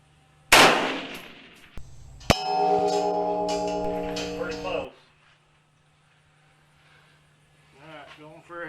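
A 6.5 Grendel AR-15 rifle shot is followed by a bullet striking a steel target at the range, giving a sharp crack and then a bright metallic clang that rings for a couple of seconds and fades. A voice speaks faintly afterward.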